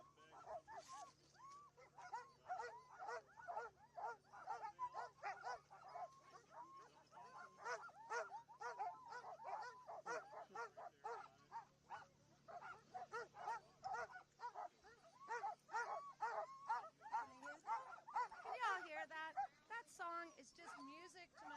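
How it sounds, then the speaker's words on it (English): Sled dog team in the Rainy Pass dog lot during the Iditarod, barking and yipping continuously in an excited chorus of overlapping high yelps and whines, fairly close, with no pauses throughout. "That's the song of a happy dog team."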